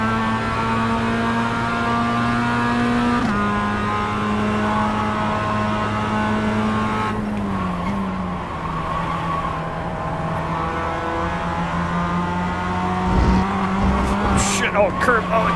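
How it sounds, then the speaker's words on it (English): A race car accelerates hard around the Sebring circuit during a practice session, its loud engine droning and shifting pitch close up throughout, with brief tyre and kerb noise near the end. "Here we go."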